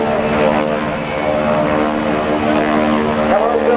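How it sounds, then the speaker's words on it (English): A propeller aerobatic airplane trailing smoke at the NAS Oceana airshow drones loudly overhead, a steady harmonic engine tone with a slight pitch shift near the end. "Bill Leff's up in the air blowing some smoke."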